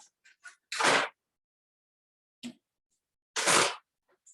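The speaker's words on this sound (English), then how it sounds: "My dog has just decided to go through the mail for today" Two short bursts of papery rustling as a dog goes through paper mail, each about a third of a second, separated by quiet with a few faint ticks and scrapes between them.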